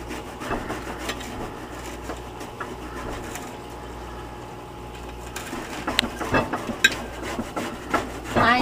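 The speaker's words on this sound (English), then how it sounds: "Now I'm going to grossly chop the sorrel." A knife chops freshly picked sorrel on a wooden board, irregular soft knocks and rubbing sounds that grow into louder, sharper cuts toward the end, with no talking.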